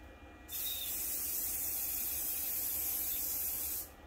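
A single sustained hiss from a spray can during guitar body building, about three seconds long, starting and stopping sharply against a quiet background.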